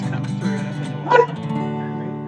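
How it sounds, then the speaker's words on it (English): A pet dog gives a short bark or yip in a home, a single brief sound over a steady background of talk and room noise. "That's our dog, Camilla."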